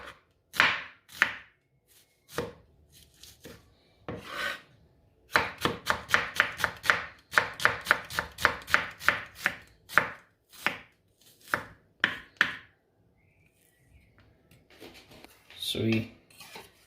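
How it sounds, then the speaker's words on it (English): Knife finely chopping onions on a cutting board for a chickpea salad, producing a rapid series of crisp, close taps in quick rhythmic bursts with brief pauses and small handling clicks between. "Next, we're gonna add the onions. Finely chop those as well."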